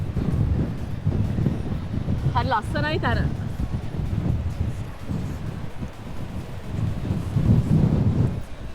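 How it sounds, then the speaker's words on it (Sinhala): Strong coastal wind at Warrnambool, Australia, rumbles and buffets the microphone steadily throughout, swelling near the end, while a person speaks briefly partway through. "හැට් එකේ මතාරලා ඉන්න බෑ හුළඟ යනවා"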